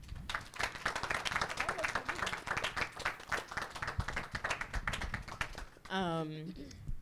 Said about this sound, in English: Clap it up for the panel.